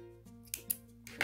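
Scissors cut crochet yarn on a napkin holder, several soft, close snips in quick succession over a faint background hum, with no talking.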